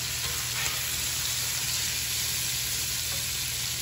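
Blackened shrimp frying in a hot pan give off a steady, dense sizzle that runs unbroken and fairly loud throughout, with no voices over it.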